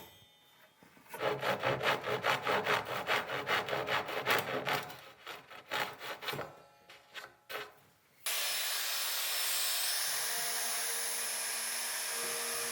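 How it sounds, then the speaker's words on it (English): A small Japanese pull saw trims the ends of a wood veneer, giving a run of rapid, even rasping strokes up close. Several shorter strokes follow before the cutting gives way to a steady whooshing hiss. "trimming the ends with the little Japanese saw"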